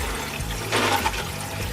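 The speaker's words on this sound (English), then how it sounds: "Let's fill it with water." Water poured into a wheel-shaped mould packed with ice cubes, a steady rushing and gurgling fill heard close up, swelling briefly midway, with no talk.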